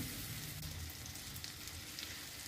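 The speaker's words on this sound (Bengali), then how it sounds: "তারপরে এগুলোকে আমি একটা শ্যালো ফ্রাই করে নিব।" Paneer shallow-frying in a small spoonful of butter makes a steady, soft sizzle with light crackle throughout, fairly quiet and without voices.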